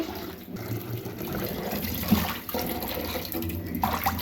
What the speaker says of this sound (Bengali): মাছগুলো এখন ধুয়ে নিচ্ছি